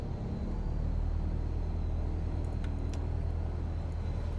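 A Reims Cessna 172 with a 210-horsepower engine mod in Microsoft Flight Simulator 2020 gives a steady, dense piston-engine drone with a heavy low rumble, holding fairly constant throughout, with a few faint high clicks midway.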